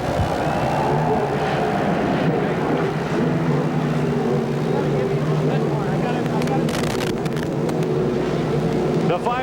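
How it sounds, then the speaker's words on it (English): Engines of CART race cars at Nazareth fire up and idle together in a dense, continuous roar, with sharper revs cutting in toward the end and a voice faintly present beneath. "Gentlemen, start your engines."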